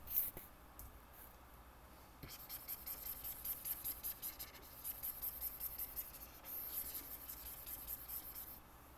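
A pencil scratches and rubs across paper at close range in quick, repeated back-and-forth strokes while sketching a car. The strokes are faint and steady, with a few light taps and no talking.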